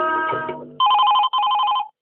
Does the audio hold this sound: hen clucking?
no